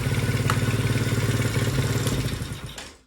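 A small engine on a kids' mini bike idles close up, a steady throbbing putter with a light mechanical clatter that fades slightly toward the end, with no talking.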